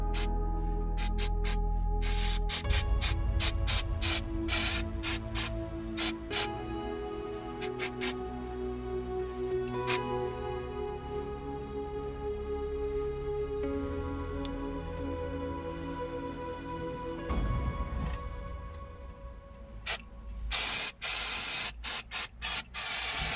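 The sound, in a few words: spraying brake and clutch cleaner on a brake caliper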